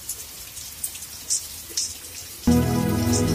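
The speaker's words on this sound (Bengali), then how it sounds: "এই যে দেখেন কত সুন্দর বৃষ্টি হচ্ছে" Rain falls on a cloudy day on the way to a wetland bank, a soft steady patter with scattered louder drips, until a loud buzzing hum abruptly takes over near the end.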